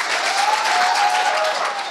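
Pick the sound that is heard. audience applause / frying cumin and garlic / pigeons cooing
audience applause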